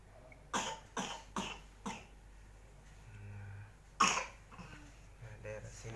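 A baby or small child with a phlegmy cough gives a quick run of short, wet coughs during a gentle chest massage. After a pause comes one sharper cough and then softer sounds, all fairly quiet and close.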